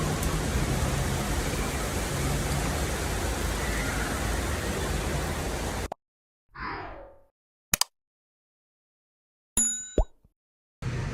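Steady rain falls outdoors, a dense even wash of noise for about six seconds before it cuts to near silence broken by a few short clicks and knocks.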